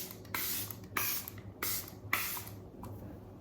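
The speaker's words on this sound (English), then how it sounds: "we're gonna set our creams with the Charlotte Tilbury Airbrush Setting Spray" Charlotte Tilbury Airbrush Setting Spray mists over cream makeup in five short, close hissing bursts, each about half a second long, separated by quiet gaps.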